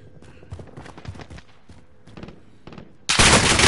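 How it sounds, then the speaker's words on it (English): Sniper gunfire in the Warzone video game, from the top of a building: a run of sharp shots and impacts, then a sudden loud burst of noise at the end, with little talk. "I'm getting sniped from the top of the building"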